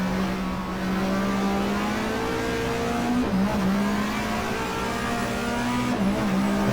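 Race cars in GTR2 game racing at Eastern Creek in the 1994 Australian Manufacturers Championship, including a Technophone Mercedes: a steady, loud engine drone with gear-shift dips, continuous, no talk.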